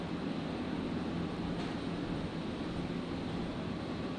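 A China Airlines passenger plane arriving at Brisbane Airport, its engines a steady, even roar throughout, moderately loud and broad, with no voices over it.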